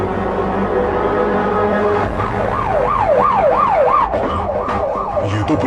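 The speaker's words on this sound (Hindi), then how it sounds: "ये तो पुलिस का सायरन है।" Ambulance siren in an action thriller film wails in a fast up-and-down sweep, rising out of busy background noise and holding loud and near for several cycles.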